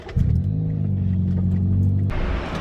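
Inside a family car in the Philippines, heard from the back seat: a deep engine rumble starts abruptly, holds steady for about two seconds, then drops away, with no talking.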